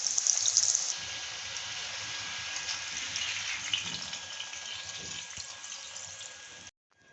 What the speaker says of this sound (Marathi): हे बघा असे सोनेरी रंग येईपर्यंत आपल्याला मोदक तळून घ्यायचे.